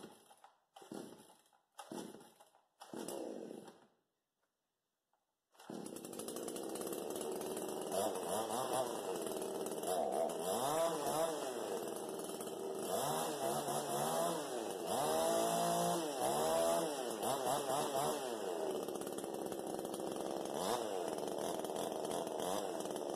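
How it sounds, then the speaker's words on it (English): AutoJare chainsaw from eBay: several short pull-cord tugs, a pause, then the small two-stroke engine fires and runs steadily, loud and close, with revving swells. "Alright, so I'll go ahead and crank it up here."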